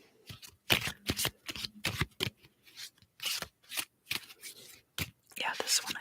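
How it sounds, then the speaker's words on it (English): Playing cards being shuffled and drawn from a deck, a run of close, crisp riffles and slides in short bursts separated by brief pauses. "I'm going to pull some of these cards as well"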